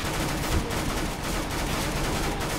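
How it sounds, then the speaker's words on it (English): P90 submachine gun fire during a shootout in the video game CS:GO at a LAN tournament, a dense, continuous rattle of rapid shots filling the whole stretch at steady loudness. "long range little duel here. P90 shootout."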